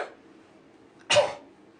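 A single short, sharp cough-like burst from a voice imitating a person's persistent silent cough, alone in a quiet room after a brief trailing breath.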